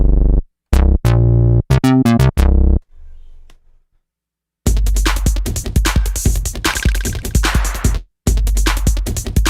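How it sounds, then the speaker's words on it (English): Presets on an OS-251 synthesizer sound out with a bright, sharp tone: a few clipped staccato notes and short stabs, a quiet pause, then a loud busy sequenced pattern running for several seconds with one brief break. "a synth like this that just has this bright, sharp, pure tone to it is going to be great for electro."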